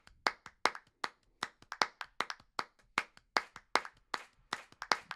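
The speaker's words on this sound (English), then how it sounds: "Then added some clap samples in there." Layered clap samples, some recorded at a microphone and panned, repeat in a busy rhythmic loop of sharp, close, loud hand claps at an uneven syncopated pattern, with no talking.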